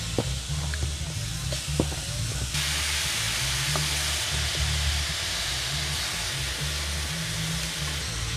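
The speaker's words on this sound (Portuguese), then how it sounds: "Colocar a carne agora para dourar." Beef ribs browning in a hot pan give off a steady, close sizzle and hiss, with a low continuous rumble underneath and a few sharp crackles near the start. The frying grows slightly brighter partway through and keeps up throughout.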